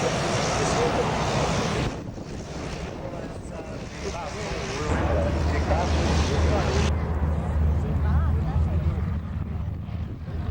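A Pilatus PC-9 single-engine turboprop roars past at an air show, a loud, continuous engine drone shifting in pitch as it passes, with wind buffeting and a voice speaking over it.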